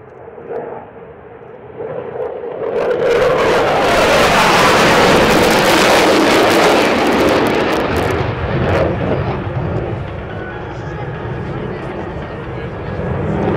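A military jet flying a display at the Florennes International Airshow swells into a loud, broad roar as it passes, then fades to a lingering rumble.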